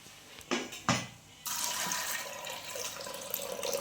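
Water splashes into a cooking pot of peas, a couple of brief gushes followed by a steady, continuous pour that runs to the end, close and fairly loud.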